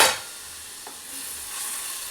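Tomatoes hit hot oil in a pan, a faint, steady sizzle with a brief stir, quiet and without talk.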